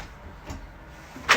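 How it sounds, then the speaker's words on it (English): Indoor door pushed shut, with a faint shuffle and then a single sharp latch click at the end, close by and quiet. "Close the door here."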